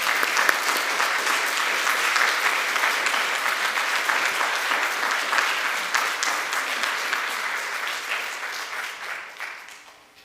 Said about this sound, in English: a big round of applause for Ellen